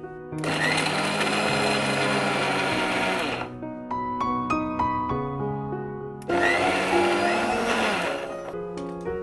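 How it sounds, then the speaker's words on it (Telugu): A kitchen mixer grinder runs dry, without water, on a spiced stuffing for ivy gourds, two loud sustained bursts of whirring with a pause between them where the motor hum and rattling jar fade and restart. "ఫస్ట్ డ్రైగా మనం మిక్సీ పట్టి ఆ తర్వాత వాటర్ యాడ్ చేసుకోవాలి"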